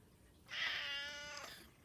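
A house cat gives a single drawn-out meow lasting about a second, close to the microphone and clear against a quiet indoor room with no talking.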